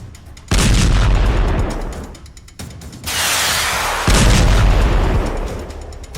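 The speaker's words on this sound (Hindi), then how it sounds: "धमाके ड्रोन बम के हैं।" Drone bomb explosions strike the Fujairah oil site in the United Arab Emirates, two heavy blasts a few seconds apart, each a sudden loud broadband boom followed by a long rumbling decay, with a hissing rush between them.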